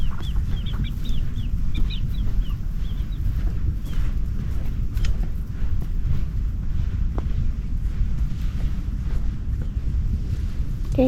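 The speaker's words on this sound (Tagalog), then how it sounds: "Kadaming manok." Many chickens clucking at a farm, a continuous bed of low, busy clucking and murmuring from a crowd of birds, with a few higher calls early on, steady throughout and fairly close.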